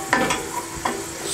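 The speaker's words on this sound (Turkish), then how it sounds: "Etlerim küçük küçük doğrandığı için çok çabuk pişiyor." Small chopped meat pieces sizzle in a pan, a steady close fry with two distinct scraping stirs of a spoon against the metal.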